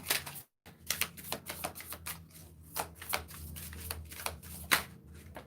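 A deck of playing cards being shuffled and broken, with quiet riffling and several sharp papery snaps and flutters in an irregular rhythm, faint and close, with no voices.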